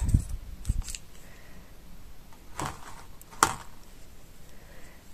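Scissors trimming macrame cord on a Christmas angel ornament: two or three quick, close snips, with a few softer handling rustles in a quiet room.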